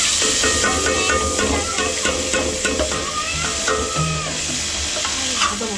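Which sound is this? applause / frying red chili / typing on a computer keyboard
frying red chili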